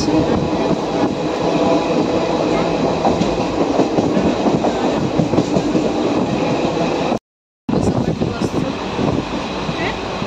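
A passenger train rushes past at close range with a loud, steady rumble and rattling wheels that fill the whole stretch, broken once by a brief gap, with no talk heard over it.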